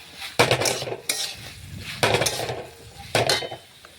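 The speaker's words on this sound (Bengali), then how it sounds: "আবারও একটু নাড়াচাড়া করে সবজিগুলো রান্না করে নিচ্ছি।" Vegetables being stirred in a pot while cooking a healthy bottle gourd stem (lau data) dish with spices, with a few scraping, clattering utensil strokes against the pot and sizzling in between, close and fairly loud.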